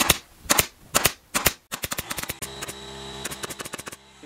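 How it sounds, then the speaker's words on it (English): Staple gun firing staples into webbing while reupholstering a sofa: sharp close snaps, four spaced shots and then a faster irregular burst over a faint hum. "So I'm just going to staple off this webbing."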